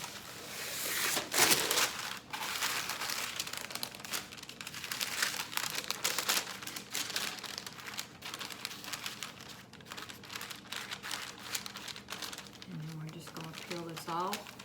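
Parchment paper crinkles and rustles in a kitchen while potato peanut butter candy dusted with confectioners' sugar is flipped over. The rustling is steady and close, with a sharp crackle near the start and a brief low tone near the end. No one speaks.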